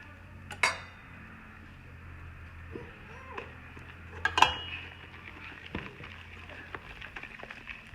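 A spatula folds pancake batter into egg whites in a bowl, giving soft, sparse scrapes and a few light clinks against the bowl, close but quiet.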